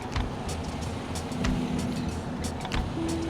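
A truck towing a trailer pulls away in gear, its engine rumbling steadily and rising slightly as it moves off, close and moderately loud, with light clicks and knocks over the drone and no talk.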